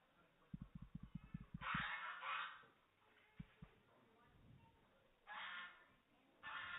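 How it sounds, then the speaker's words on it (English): At a livestock auction, a small bird gives a quick run of rapid clucking pulses, followed by louder honking calls and scattered taps, faint and somewhat muffled. "Looks like a little hen, probably."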